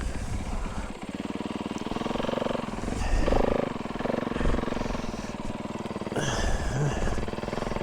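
A gang of snowbikes rides past together, their engines droning loudly and steadily with surging revs throughout, close by and continuous.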